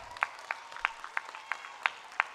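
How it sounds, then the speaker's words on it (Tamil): A sparse audience gives scattered applause, about seven separate claps spaced out over a couple of seconds, fairly faint and with no talking. "அவங்களுக்கு ஒரு நல்ல ஒரு கைத்தட்டல் கொடுங்க பார்ப்போம்"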